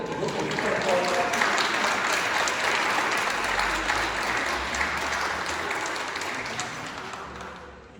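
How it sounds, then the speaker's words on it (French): Applause from a church congregation during a Pentecost Mass, thanking the choir members; sustained, dense clapping that fills the space for the full stretch and tapers slightly toward the end, with some voices faintly beneath. "Merci beaucoup, on peut les applaudir."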